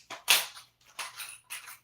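A screw gun drives screws into the new chassis of an Arrma Limitless 8S RC car, giving four short whirring bursts with brief pauses between them, fairly close.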